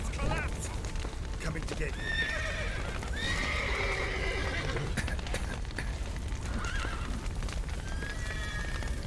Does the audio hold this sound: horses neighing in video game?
yes